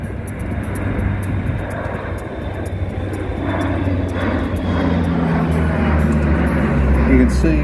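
AP-3C Orion four-engine turboprop maritime patrol aircraft performing a full flight display at an air show, its engines producing a loud, steady droning roar that builds gradually as it passes.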